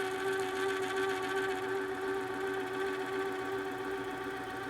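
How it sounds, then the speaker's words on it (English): On a wood lathe, a spinning wooden piece hums steadily while a texturing wheel is pressed against it, producing a constant whirring drone with a faint gritty buzz and no speech. "I'm going to start by pressing the left-hand side of the wheel against the wood"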